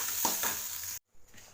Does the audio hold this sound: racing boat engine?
no